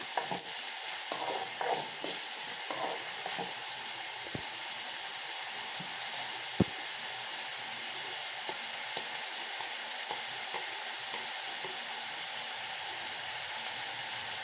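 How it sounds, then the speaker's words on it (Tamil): Steady sizzling and frying of chopped ripe tomato in a pan, with a spoon scraping and stirring through it now and then, close and continuous. "பழுத்த ஒரு தக்காளி பொடியாக நறுக்குனதை ஆட் பண்ணிக்கோங்க அதோடு சேர்த்து நல்லா கலரி விட்டுக்கோங்க"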